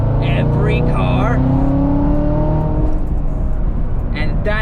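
A Corvette Z06 sports car accelerates hard, its engine roaring loud and close with a rising pitch as revs climb, then settling into a rough, steady rumble; a faint voice appears near the end.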